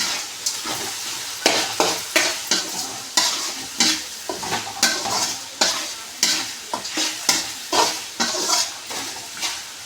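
Chicken tossed with chicken masala in a frying pan for a bachelor-style chicken fry: a rhythmic series of scraping stirs over a steady sizzle, close and fairly loud, with no speech.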